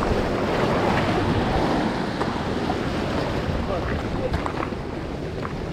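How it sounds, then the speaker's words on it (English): Ocean waves surge and wash against a jetty at Port Aransas, Texas, a loud, continuous roar mixed with heavy wind buffeting on the microphone. "I have to wait for that next wave to come"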